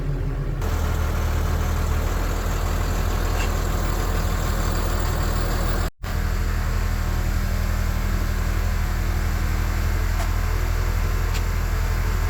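A farm tractor with nearly 4,000 hours on it runs steadily nearby, giving a loud, continuous low engine drone with a brief dropout midway and no speech.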